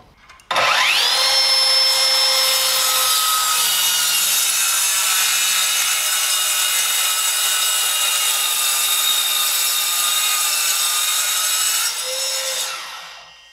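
A Metabo KT 18 LTX 66 BL cordless plunge saw, blade tilted slightly, cuts through wood with a loud sustained high whine and steady cutting roar that spins down at the end.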